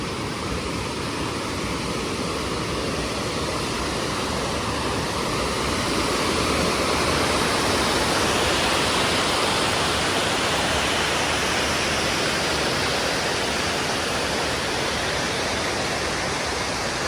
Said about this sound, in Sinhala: මෙතන වතුර පාර අද සැරයි